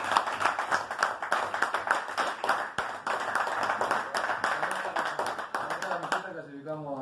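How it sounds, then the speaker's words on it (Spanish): Audience clapping at a basketball association tribute honoring a player, a brisk run of hand claps with distinct sharp slaps through most of it, thinning out at the end as someone begins talking. "Creo que merece otro aplauso."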